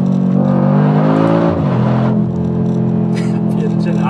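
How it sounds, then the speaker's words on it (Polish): The exhaust of an 850 hp Keyvany car revs loudly, its note climbing and then dropping before settling into a deep, steady burble, with a voice talking over part of it. "A tutaj mimo wszystko ten dźwięk wydechu"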